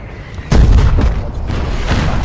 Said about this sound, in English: We gotta shoot the bunker, focus on shooting the bunker, guys.